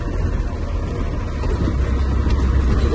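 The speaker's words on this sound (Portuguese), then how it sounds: "Vou botar o caminhão aqui, ó." A truck's engine rumbles low and steady nearby as the truck is being parked, a continuous muffled drone with no talking over it.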